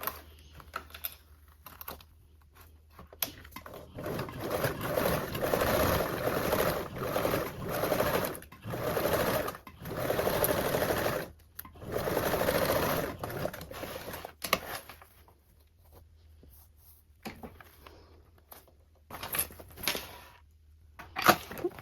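A sewing machine top stitches a seam on a fabric toiletry bag, running in several bursts of rapid needle chatter separated by short pauses, close and fairly quiet with no talk.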